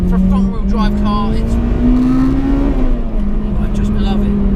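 A front-wheel-drive Honda Integra DC5 Type R engine hums steadily and loudly while driving, its pitch rising slightly then settling, with a voice talking over it.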